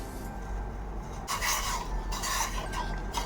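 Macaroni pasta being stirred in a pot, a scraping, rubbing rasp of utensil against metal and pasta that grows louder and more continuous after a quiet start, with no talking.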